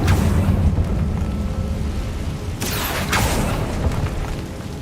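A Confringo blasting spell in Hogwarts Legacy bursts within a constant loud rumbling din. A brief bright blast stands out near the end.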